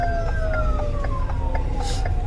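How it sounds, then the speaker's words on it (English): A wailing emergency siren sweeps slowly downward, steady and moderately loud over a rumbling background, with a brief burst of hiss near the end. "I heard sirens."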